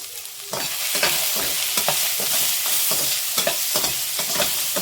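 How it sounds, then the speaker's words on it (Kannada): Cashews, cinnamon, cardamom and cloves fry in a pan with a steady loud sizzle, broken by repeated sharp scraping knocks of a spoon stirring; no voices. "ಎಲ್ಲಾದರೂ ಸ್ವಲ್ಪ ಚೆನ್ನಾಗಿ ಫ್ರೈ ಮಾಡ್ಕೋಬೇಕು ಮಸಾಲೆಗಳೆಲ್ಲ"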